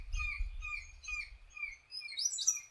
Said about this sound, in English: The birds are easier to hear than see in the dense foliage.